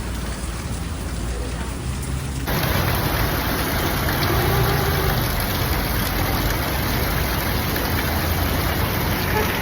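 Steady rain pours down in San Pedro, a dense broadband hiss that grows heavier after a couple of seconds, with a faint low rumble beneath.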